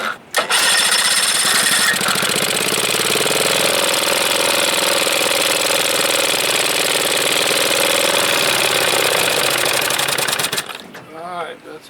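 A 1976 25 hp Evinrude outboard motor runs loud and close for about ten seconds, a steady, rough, buzzing two-stroke drone that cuts off near the end.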